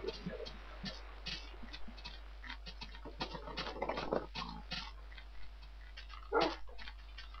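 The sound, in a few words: Minecraft wolf whining, video game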